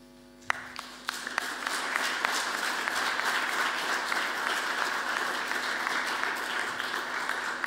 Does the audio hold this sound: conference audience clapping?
yes